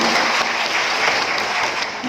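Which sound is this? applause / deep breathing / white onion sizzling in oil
applause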